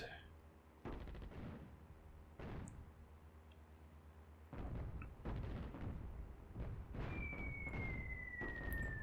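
Stuka dive bomber airstrikes in the North Africa wargame Attack at Dawn, Operation Crusader, land as a run of loud, booming explosions and rattling gunfire bursts in several waves, with a high descending whine near the end.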